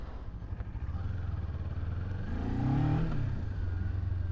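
Kawasaki Ninja 400 KRT sport motorcycle running at a steady engine drone, swelling briefly as the revs rise and fall, close and continuous.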